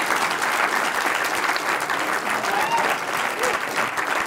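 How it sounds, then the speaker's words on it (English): Audience applause after a startup pitch presentation at a Startup Weekend event in Spokane, a steady, dense patter of many hands clapping that fills the room at an even level throughout. "Give him a round of applause."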